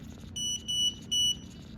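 A motion sensor in a lab project sounds its alert, a series of three shrill electronic beeps, the last held a little longer, over a low steady room hum.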